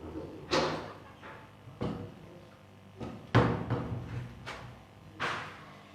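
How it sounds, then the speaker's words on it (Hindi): A door being pushed shut indoors during a spoken religious discourse, heard as several dull thuds and knocks spread across a few seconds, moderately close over a faint room background. "दरवाजा बंद कर देना।"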